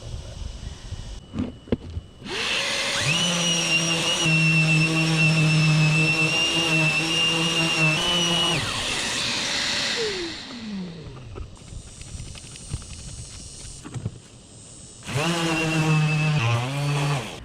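A power sander works over a fiberglass boat foredeck, whining in long high-pitched bursts that rise as it spins up and drop off as it stops, with quieter pauses between runs and a final burst near the end.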